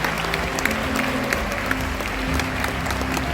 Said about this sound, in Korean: 더 큰 박수로 축하해 주시기 바랍니다.